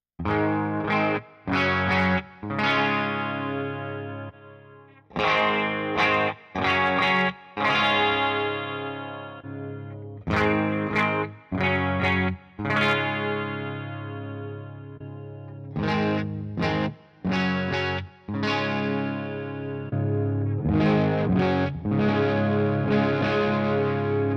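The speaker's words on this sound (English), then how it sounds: "I'm just going to play a couple chords on each one of the amps" Distorted electric guitar chords through amp simulators on a Sonicake Pocket Master ring out in short strummed bursts and sustained strums, with brief pauses between phrases and no voices.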